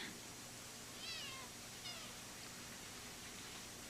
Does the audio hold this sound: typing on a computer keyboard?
no